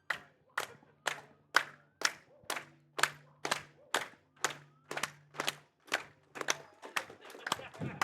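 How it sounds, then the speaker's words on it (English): Audience applauding speedrunner Dangers after a Super Mario 64 run at Fastest Furs FWA 2025, heard as about a dozen loud, evenly spaced claps in a steady rhythm across the whole stretch, with faint low voices beneath. "round of applause for Dangers"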